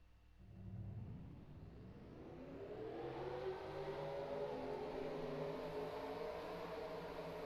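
Race cars in an ethanol-series racing video game at Milwaukee rolling off, engines droning and rising steadily in pitch as they build speed, a continuous loud layered whine with no talk.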